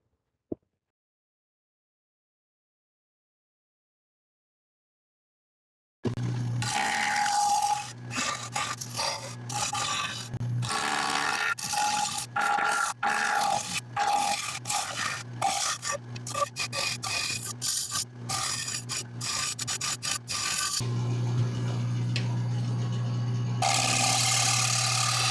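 Wood lathe turning a square black walnut bowl: after several seconds of silence, a loud motor hum starts with continuous scraping and rasping as the tool cuts, full of rapid irregular catches from the square corners, with no talk.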